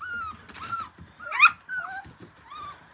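Six-week-old miniature poodle puppies play-fight at close range, trading high yips, squeaky whimpers and short growls in quick, uneven bursts.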